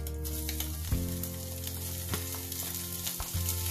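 Garlic sizzles in hot oil alongside scallops in a pan, an even close crackling fry with a few brief shifts as the food is stirred, no voices.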